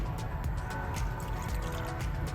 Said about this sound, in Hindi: इस बॉल में जो मसाला है तकरीबन 1 कप के करीब मैं इसमें पानी डाल रही हूँ